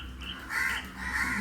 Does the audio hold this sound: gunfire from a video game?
no